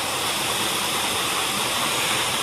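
A waterfall in Bonito, Brazil roars as a loud, steady broadband rush of falling water, constant and close with no voices over it.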